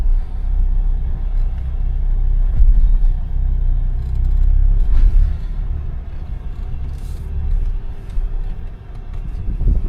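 An SUV crawling off-road with automatic braking engaged, a loud steady low engine and drivetrain rumble with slight surges, close and continuous with no distinct brake sounds standing out.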